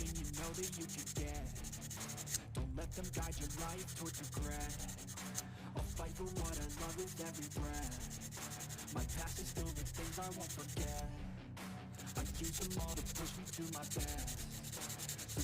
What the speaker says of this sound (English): We're letting the sandpaper do the work.